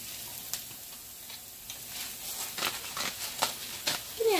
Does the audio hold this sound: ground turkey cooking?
yes